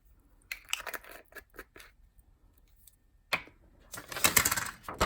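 Glitter is tapped onto a handmade frost-themed paper card, giving a series of quick papery taps and rustles in two bursts separated by a short quiet gap.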